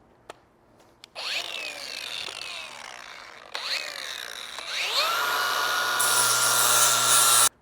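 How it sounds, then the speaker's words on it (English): A flap wheel on a power tool sands a rear strike bumper on a 4th Gen truck, a loud steady whirring grind that starts abruptly, pauses, then resumes and rises in pitch toward the end. "I'm going to go ahead and clean it up with just a flap wheel on this."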